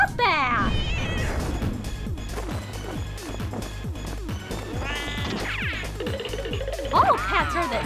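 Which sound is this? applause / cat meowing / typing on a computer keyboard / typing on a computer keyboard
cat meowing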